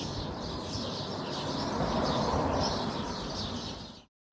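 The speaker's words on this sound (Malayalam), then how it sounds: "അപ്പോൾ അവിടെ ഭയങ്കര കിളിയുടെ സൗണ്ട്" Dense, continuous chatter of many birds roosting in a tree at evening, loud and close. The twittering stays steady until it cuts off abruptly near the end.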